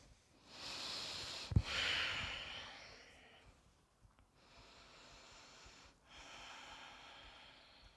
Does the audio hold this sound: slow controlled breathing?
yes